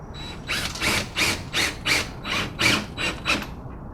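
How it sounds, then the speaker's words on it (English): A power driver fitted with a Phillips bit screws an anchor into a side mount bracket, giving a fast ratcheting chatter in about seven rhythmic pulses, close and fairly loud. "The Phillips bit goes right into the end of the anchor. And all I'm going to do is screw it right in."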